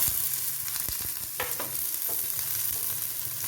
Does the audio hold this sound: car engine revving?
no